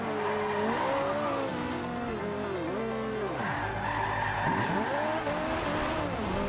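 An Italia car in Forza Horizon 2 drives through the night, its engine wavering up and down through gear changes while the tires squeal and skid repeatedly, loud and close, with no voices.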